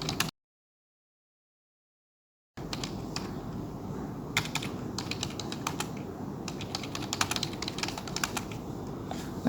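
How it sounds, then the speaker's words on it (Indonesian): Someone types on a computer keyboard while working in an office application. A short silence gives way to a rapid, irregular stream of close, crisp key clicks with no talking. "kemudian kita mulai mengetikkan."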